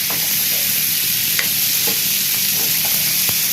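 Cauliflower frying in a pan with spices, a steady close sizzle broken by several sharp scraping knocks as it is stirred, with no voices.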